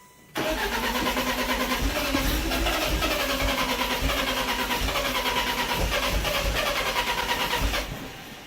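A BMW E36 engine cranks and catches after a brief quiet start, then runs at a steady, rough idle close by for several seconds before cutting off near the end.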